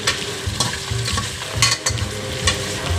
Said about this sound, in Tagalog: We need to mix well the meat and the cow leather so it will not burn.